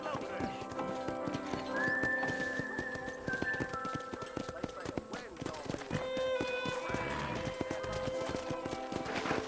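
Steady clip-clop of horse hooves with an occasional whinny at a ranch corral in Red Dead Redemption, set against a dense layer of game music and ambient sound.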